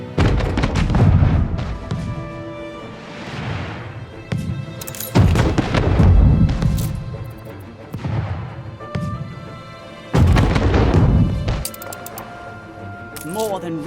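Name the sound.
ship under attack in video game Anno 1800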